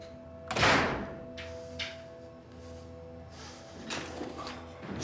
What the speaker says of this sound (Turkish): Kapıyı kapat, otur.